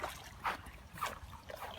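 Canoe paddle strokes pulling through calm water, three soft, evenly spaced splashy swishes, close and quiet.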